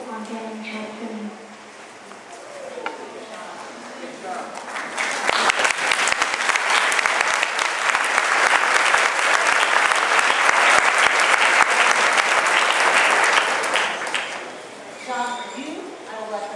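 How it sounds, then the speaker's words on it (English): Audience applause at a state legislature joint judiciary committee hearing, swelling after talk into a sustained burst of clapping for several seconds, then fading as speech returns at the end. "I will let them applaud."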